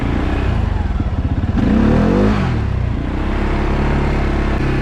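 A 2022 CFMoto CForce 500 ATV ripping down a gravel road, its engine pulsing and revving loud and close, rising then easing off, with gravel clatter and whirring underneath.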